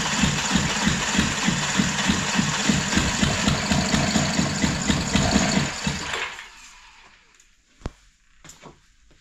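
An Audi engine, likely struggling with oil and turbo problems, idles roughly with a rhythmic low pulsing for about six seconds, then cuts off, leaving faint clicks and a sharp knock.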